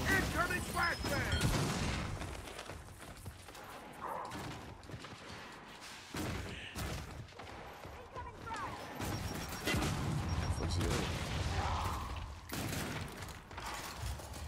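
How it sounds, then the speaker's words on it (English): Loud, dense video game combat noise with a flashbang grenade going off among repeated blasts, impacts and mechanical clatter, with a voice talking over it. "Incoming flashbang!"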